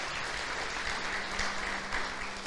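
Audience applause inside a church during a sermon, a steady, moderately distant wash of clapping that holds evenly for a couple of seconds with no clear voices.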